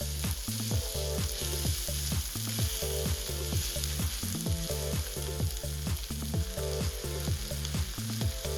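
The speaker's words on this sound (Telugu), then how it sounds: "ఇప్పుడు ఇలా బాయిల్ అవుతున్నటువంటి ఈ చికెన్ని మనం కింద వైపు కూడా బాగా కుక్ అయ్యేటట్టుగా మనం ఫ్రై చేసుకోవాలి" Chicken frying in garlic butter in a pan, a close, steady sizzle with rapid rhythmic bubbling and spattering that runs throughout without any speech.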